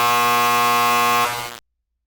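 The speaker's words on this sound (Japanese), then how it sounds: "ようやくブザーが鳴りました。" A harsh, steady electronic buzzer signals the end of a stage performance, sounding as one continuous drone for about a second and a half before cutting off abruptly into silence.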